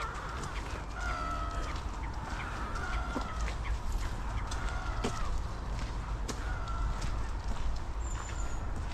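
Noisy diving ducks on a decent-sized lake at Stover Country Park in Devon give repeated honking and clucking calls at a moderate distance over a steady outdoor background, with no talk.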